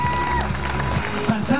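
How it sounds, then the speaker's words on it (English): A crowd claps and cheers at an outdoor charity bungee jump event, a loud, continuous burst of applause with shouts and a voice over the top, short and close. "Give him a massive round of applause."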